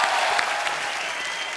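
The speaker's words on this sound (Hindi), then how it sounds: "ब्रावो के लिए और जोरदार तालियां हो जाए" Audience applause at a live comedy talk show taping: dense, steady clapping from a large crowd, fairly close and even in loudness, alone without talk.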